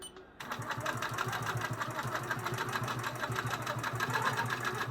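A sewing machine quilts a thick Costco blanket backing onto a quilt-as-you-go top, stitching up along a seam with large stitches; a steady, close, rapid mechanical chatter runs continuously after a brief start.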